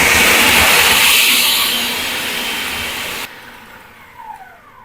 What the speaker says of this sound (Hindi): पहले हम इनको चॉप कर लेते हैं